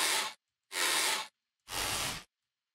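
Three separate breathy, hissing swells, each about half a second long with short silent gaps, sounding like a strained, pitch-shifted creak of a bow's tension, a game sound effect.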